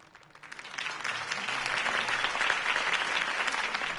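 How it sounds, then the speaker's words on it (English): Steady applause from a large crowd in the video game Batman: The Telltale Series, rising quickly and holding at a loud, even level for several seconds. "could have heard that applause"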